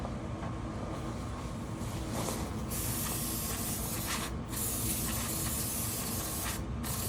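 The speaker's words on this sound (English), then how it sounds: "I guess since we're here, I'm going to get some brake cleaner." Brake cleaner sprays in a loud, close, continuous hiss onto lawn mower engine parts, with the stream briefly cutting out and restarting a couple of times.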